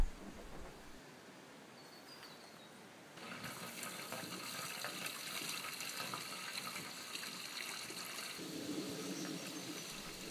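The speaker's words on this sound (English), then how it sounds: "The kitchen sink waste comes out of the white pipe and goes into the tub." Kitchen sink waste water pours from a white pipe into a tub outdoors at an off-grid container home in Australia, a steady rushing flow that grows louder and fuller partway through.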